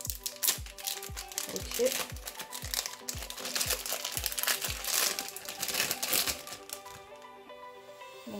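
A sand-filled, fruit-shaped stress ball being forced open, giving a close run of crinkling, crackling and rustling with rhythmic soft thumps, while a person speaks briefly over it.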